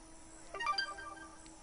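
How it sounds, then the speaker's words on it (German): A mobile phone ringtone chirps briefly, a short melodic burst of a few notes at moderate volume over quiet background. "Ah, das Handy. Irgendwer nervt mich schon wieder"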